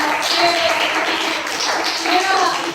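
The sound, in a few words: applause for Amina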